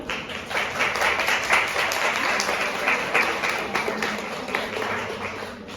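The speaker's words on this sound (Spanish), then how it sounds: "Por favor, les pido un aplauso para el doctor" An audience at an academic talk on childhood and youth applauds steadily for a newly introduced doctor, a dense, even clapping that stays moderate and fades slightly at the end.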